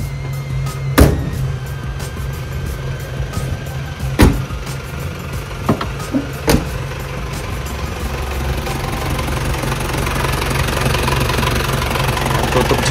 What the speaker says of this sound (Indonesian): Panther kotak yang ini doang mesinnya yang enak selama saya punya